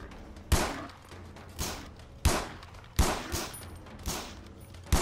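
Gunshots fired at a boar in the video game Far Cry 3: six or seven sharp, loud single shots spaced roughly every half second to a second, each with a short decaying tail over a steady background ambience.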